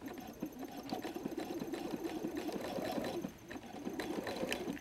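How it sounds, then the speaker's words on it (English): A sewing machine runs a triple zigzag stitch at 0.9 stitch length and 1.5 width on a messenger bag, giving a close, steady, rapid mechanical whir that pauses briefly and then resumes, with no talking. "Now, I want to stitch this down with a triple zigzag."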